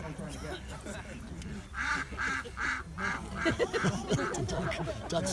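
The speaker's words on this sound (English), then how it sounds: "Duck's chiming in." Duck quacking in repeated bursts, several calls in a row from a nearby bird, with people talking underneath throughout.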